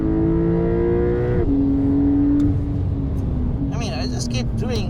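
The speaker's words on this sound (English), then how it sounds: "How can you not love driving a Porsche 911? Its natural habitat, the racetrack." Porsche 911 of the 992 generation, a Carrera S, circling a racetrack, its engine a steady loud drone that shifts pitch as it changes gear, with a person talking over it throughout.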